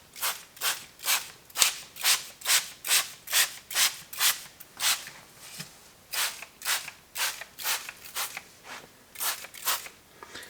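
Steady rhythmic scrubbing, a brush rasping back and forth over a tire and wheel coated in waterless wheel and tire cleaner, in quick, even strokes, close and fairly loud.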